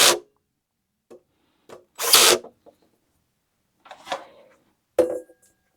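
A cordless screwdriver gives short separate bursts of whirring against ceiling fan screws, with brief quiet gaps and small handling sounds between them; close and alone.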